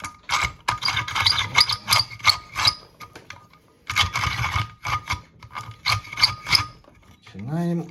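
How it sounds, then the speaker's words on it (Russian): A hand drill with a concrete bit bores into brick in bursts of gritty, rasping grinding, separated by short pauses, close and fairly loud, with a brief voice near the end. "Начинаем наше сверление."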